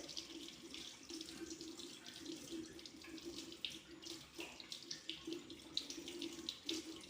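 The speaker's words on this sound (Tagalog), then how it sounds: "Then we're going to rinse our hands with water" Running tap water splashes steadily into a sink as hands are rinsed during handwashing, a continuous close wash of water with small irregular splashes.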